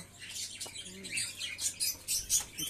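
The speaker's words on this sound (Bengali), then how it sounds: "এগুলো গিরিবাজের বাচ্চা আছে, গিরিবাজ পায়রার বাচ্চা আছে" Baby Giribaz pigeons give a cluster of soft, close, high peeping chirps, repeated in quick irregular bursts with a brief low murmur underneath.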